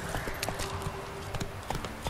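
Horse hooves pounding in the video game The Witcher 3, a brisk galloping rhythm of sharp clip-clops, fairly close and clear over faint background.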